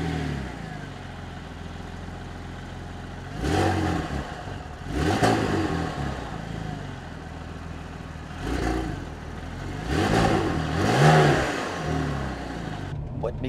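A Porsche car engine, heard from inside the cabin, pulls hard in several bursts of acceleration, each swell rising and falling in pitch over a steady road rumble, with people talking between pulls.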